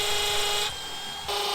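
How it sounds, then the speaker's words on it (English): A power drill whines steadily while boring into an aluminium plate for a carport post, its pitch dropping briefly under load midway before rising again, close and alone. "I've got a nice aluminium plate there that I'm going to drill"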